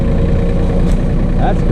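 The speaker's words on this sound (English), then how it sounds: "let's see what we can do with the little tractor again" A small New Holland Workmaster 25 compact tractor engine runs steadily in the woods, a loud continuous low drone with no pauses, while a person talks briefly over it.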